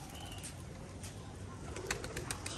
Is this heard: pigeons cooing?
yes